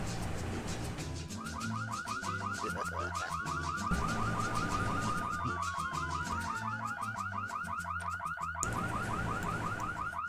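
Burglar alarm in The Sims 2: a loud, fast repeating electronic warble that sounds nonstop over a background of game music and ambient sound.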